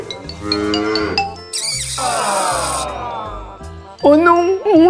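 A cow moos in an animated children's farm scene, a drawn-out low call heard among jingling music and other cartoon sound effects, with a child-like voice briefly present.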